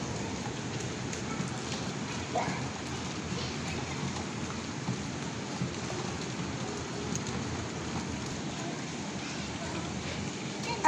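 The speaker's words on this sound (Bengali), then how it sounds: "আজকে সে সকাল থেকে বৃষ্টি, মেঘলা মেঘলা আবহাওয়া, মনে হচ্ছে সারাদিনই বৃষ্টি থাকবে।" Steady rain falls through a cloudy, overcast day in Bangladesh, a continuous even hiss of drops on surfaces with no breaks, moderately distant and fairly faint throughout.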